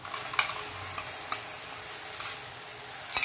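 Cashew and tomato gravy goes into capsicum and mixed vegetables frying in a pan for a Kolhapuri curry, giving a steady low sizzle with a few scraping stirs and short clinks.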